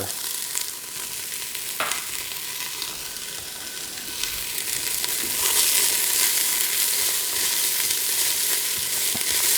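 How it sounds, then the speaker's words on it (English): Chopped onions, with garlic added, sizzle while sautéing in a pan for turkey white bean pumpkin chili. A steady, close frying hiss grows louder, and an occasional stirring scrape sounds with no talk. "I'm going to turn this down now that it's gotten in there to sizzle a little bit."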